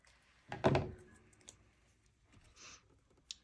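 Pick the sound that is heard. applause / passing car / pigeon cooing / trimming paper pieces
trimming paper pieces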